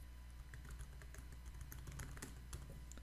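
A password is typed on a computer keyboard, a steady run of quiet, close key taps over a low background hum.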